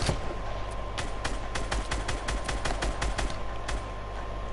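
Steady automatic gunfire in a video game, a regular rapid string of shots at moderate loudness, fairly close, with no voices over it.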